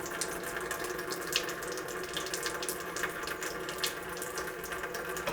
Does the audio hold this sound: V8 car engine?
no